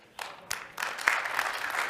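A conference audience at a ShmooCon security talk breaks into applause, starting with a few scattered claps and building into steady, moderately distant clapping.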